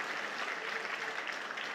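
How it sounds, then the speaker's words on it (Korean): A church congregation at a Sunday afternoon service claps to welcome a new pastor, producing a dense, even wash of applause that stays steady and moderately soft from start to finish. "인사할 때 박수로 격려해 주시면 좋겠습니다"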